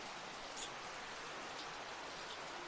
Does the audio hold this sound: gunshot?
no